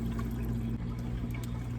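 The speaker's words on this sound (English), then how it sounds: "So I'm just gonna add a cup of water" A cup of water pouring into a pot set on high heat, a steady liquid rush with a low hum underneath, close and continuous for under two seconds.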